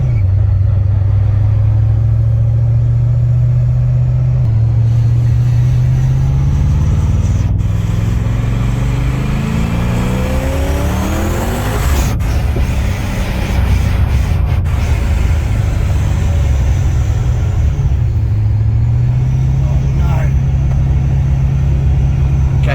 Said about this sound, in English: it's gone back to idle at really slow